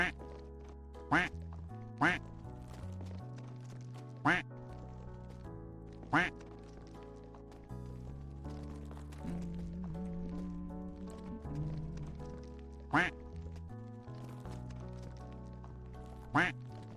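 Ducks quack in The Game of Sisyphus, each quack a short, sharp burst that recurs at irregular intervals of a few seconds over continuous game music.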